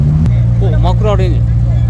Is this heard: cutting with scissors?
no